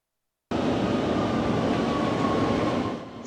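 A Jacksonville sky train passes as a steady, continuous rumble of rail cars that starts abruptly and holds at a constant level throughout.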